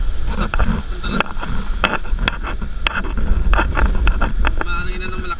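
Strong typhoon wind from Typhoon Tino gusts and buffets hard against the microphone in a steady roar, with sharp knocks and rattles scattered throughout.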